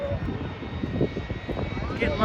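An airplane engine drones at an outdoor air show as the aircraft lines up for a pass, a steady loud roar beneath excited commentary from nearby spectators.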